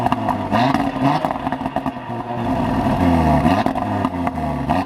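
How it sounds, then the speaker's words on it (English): A 2018 Audi RS3 sends out an aggressive exhaust note, a loud, close, continuous engine roar that rises and falls with throttle blips and revs. "have a quick listen to the rather aggressive and delightful exhaust note."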